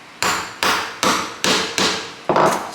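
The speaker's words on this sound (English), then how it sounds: "I'm going to use a hammer on" A hammer drives a grommet into a Toyota Tacoma rear seat, six loud, sharp metallic blows at a steady rhythm, each ringing briefly before the next, close up with no voices.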